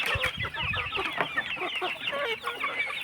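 Chickens on a poultry farm cluck busily and continuously, with several close overlapping calls and no speech.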